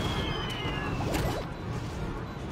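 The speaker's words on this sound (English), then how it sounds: "I hear a cat." Cat meowing inside the video game Metal Gear Solid: Peace Walker, a short faint mew rising briefly over a dense, noisy game soundscape.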